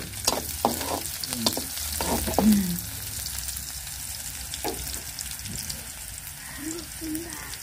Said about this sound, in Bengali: এখন রসুন দেব